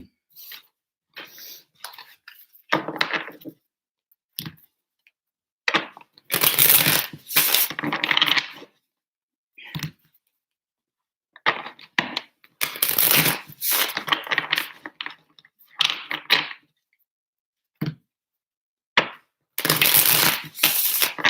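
Tarot cards are shuffled in three sets of quick, papery riffles and slaps, close and crisp, separated by short silences.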